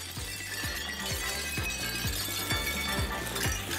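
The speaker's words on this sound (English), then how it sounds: "Okay, glass got wrecked." An industrial shredder crushes glass, with a rhythmic series of heavy thumps about twice a second over a continuous grinding, crackling roar.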